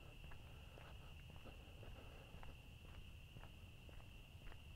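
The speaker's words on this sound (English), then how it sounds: "Listening to the crickets and the frogs." Night chorus of crickets and frogs outdoors, a steady high insect trill over a constant low ambient hum, with scattered faint clicks and chirps and no speech.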